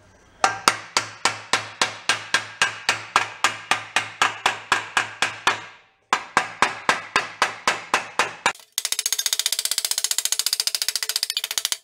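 Hammer blows on a big chisel cutting a metal repair panel for a 1965 Ford Econoline pickup, a fast steady run of about two dozen loud, close, ringing strikes, a brief pause, more strikes, then a denser buzzing rattle.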